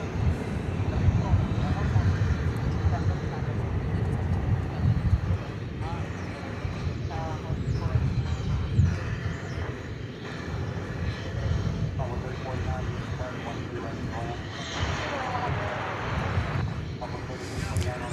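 An Airbus A319 arriving at DFW Airport from Silao, Mexico, gives a steady, broad engine roar that holds loud for the whole stretch, with faint voices in the background.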